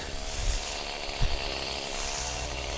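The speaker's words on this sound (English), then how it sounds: "Because the chainsaw will wear you out for sure." A chainsaw runs continuously, a loud buzzing whine with occasional dips and surges in the engine, heard close up with no talking.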